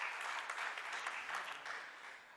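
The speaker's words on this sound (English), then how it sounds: "A round of applause for her as well, please." An audience at a semiconductor ecosystem conference session claps in a soft, even wash of applause that fades slightly toward the end, faint and somewhat distant with no voices over it.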